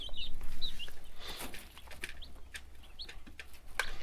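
Young chickens, growing into roosters, give several short clucks and chirps at moderate distance against low background noise on an off-grid homestead.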